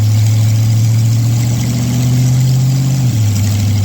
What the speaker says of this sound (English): now we're going to take it up to speed. We're going to make sure this 2-speed transmission shifts once